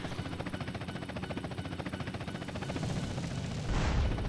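Rapid gunfire in GTA San Andreas rattles in a fast, even stream of shots, then swells into a louder, heavier blast at the very end.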